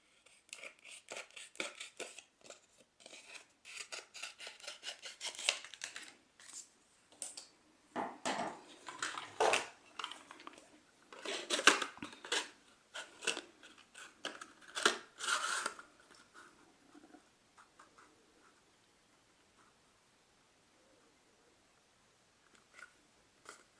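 Close scissors snipping through stamped paper in a rubber-stamping craft session, a dense run of crisp cuts over about fifteen seconds before it falls quiet with a last faint snip.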